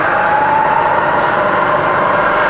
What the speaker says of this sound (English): Fire it up. It's just as quiet in low range.